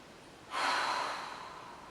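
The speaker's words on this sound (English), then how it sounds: "One more breath here." One deep breath is drawn in sharply through the nose during a stretching session and then released slowly in a long, soft exhale, close and quiet with no talking.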